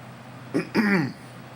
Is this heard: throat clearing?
yes